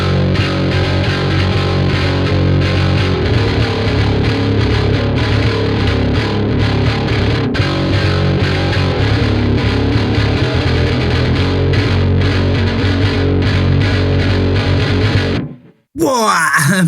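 Heavily distorted metal guitar through the grind section of the Neural DSP Parallax X plugin, a dense, loud, continuous riff with chugging low end, cut off abruptly near the end followed by a short squeal.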